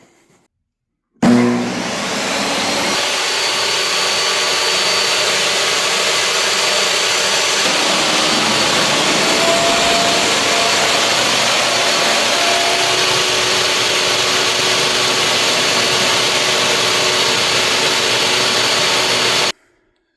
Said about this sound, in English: Now I'll try the table saw